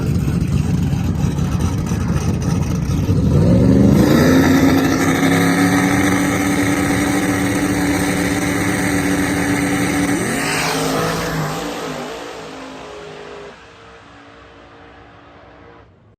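A drag race car making a pass down the strip, a loud engine roar building into a sustained high-revving scream that holds for several seconds, then backs off and fades into the distance.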